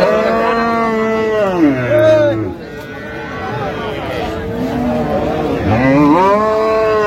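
Dairy cows and calves at a busy cattle market bellow in long, loud moos close by, one after another, rising and falling, over a background hum of the crowd.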